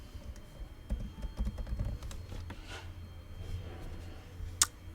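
Someone types a search term on a computer keyboard, producing a quick run of soft, close clicks over a low background hum, ending with one sharper tap.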